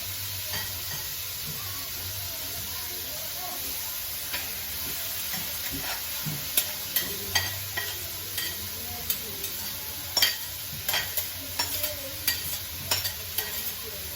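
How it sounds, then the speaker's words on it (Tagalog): Rice stirred in a frying pan, a soft continuous sizzle with repeated scraping taps of a utensil that grow more frequent and distinct toward the end. "Lagyan natin ng rice, inipos agad natin para hindi sila magdikit-dikit sa baba."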